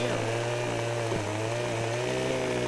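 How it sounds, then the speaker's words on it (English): Chainsaw from the farming video game Farming Simulator 15 cutting a tree: a steady, buzzing engine drone held for a few seconds with slight pitch wobble, loud and close. "All right, let's put the chainsaw away."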